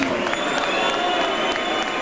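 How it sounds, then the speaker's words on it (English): A ringside crowd at a boxing match applauds a knockout winner, a broad, steady roar of clapping and cheering heard at a distance and evenly sustained. "Stewart, a nice round of applause"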